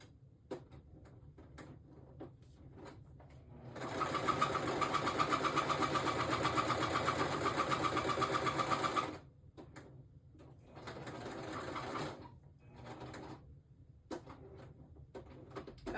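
A sewing machine whirs in a long steady burst of stitching, pauses, then runs again in a shorter burst, with small clicks and handling noises around it.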